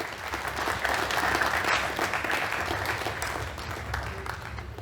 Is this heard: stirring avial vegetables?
no